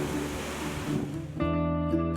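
Ocean waves surge into a sea cave that blows out a geyser-like spout on the Oregon coast, heard as a low, faint watery rush with a sharper surge near the end.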